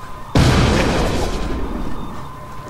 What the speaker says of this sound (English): Yeah, I just threw a nade